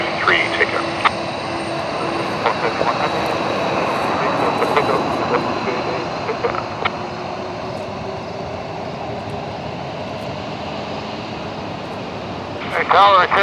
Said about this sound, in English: Toronto Tower, 747 departing